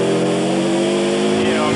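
A Group A rally car powers along a stage in Australia, its engine holding a loud, steady buzzing note for a moment with a brief upward shift in pitch near the end.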